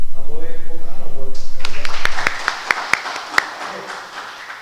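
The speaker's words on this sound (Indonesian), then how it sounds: "tepuk tangan buat" Audience clapping at a Christian ethics talk on artificial intelligence, starting about halfway through after a voice and building into dense applause with a few sharp, louder claps standing out.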